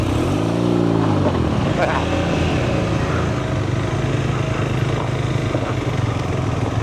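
A BMW R nineT Scrambler motorcycle pulls away on a road, its engine note rising briefly then settling into a steady, loud rumble with wind noise close to the rider.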